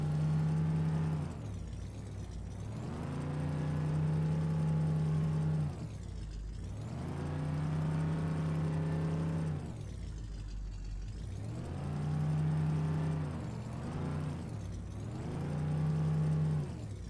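A truck engine in Farming Simulator 15, driven through a field, hums steadily close by, rising and falling in repeated waves as the driver revs it up and eases off, alone with no talk.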